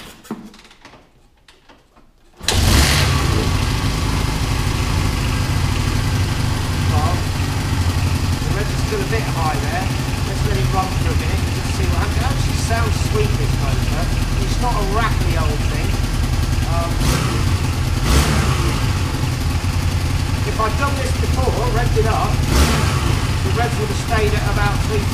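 A Honda Benly motorcycle engine starts abruptly after a quiet moment, then idles steadily and loudly with a few brief revs rising above the constant running note, close by.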